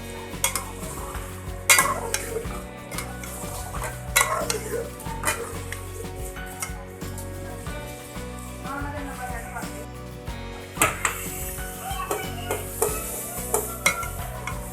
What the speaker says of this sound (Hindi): अब हम इसमें आलू डाल के भुनेंगे, आलू ऐड करेंगे, इनको थोड़ा सा भुनेंगे।